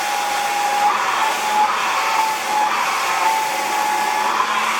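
Hair dryer blowing hot air onto a lace front wig, a steady close whooshing roar with slight rises and dips in airflow, running alone without talk.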